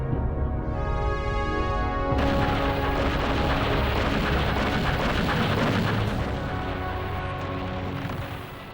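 An artillery barrage at Dien Bien Phu in 1954 sounds as a dense, continuous roar of heavy rumbling blasts. A droning tone comes first, then the loud, sustained thunder, which eases slightly toward the end.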